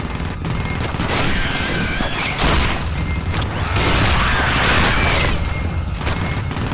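Rapid automatic gunfire from a gun turret in the Alien vs Predator video game, a loud sustained fusillade with heavy booms running through the whole stretch.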